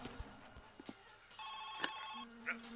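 A phone in the game My Summer Car rings with a short burst of fast, pulsing electronic trills, fairly clear over a quiet background with a few faint knocks before and after.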